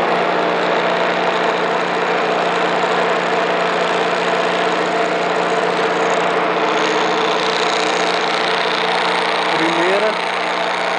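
A Pullmax nibbling machine runs in a metal shop with a steady, rapid mechanical hammering hum and strong vibration, constant and close, while someone speaks over it.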